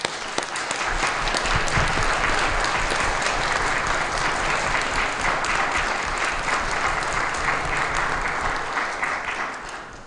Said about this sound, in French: Je pense qu'ils méritent une bonne main d'applaudissement.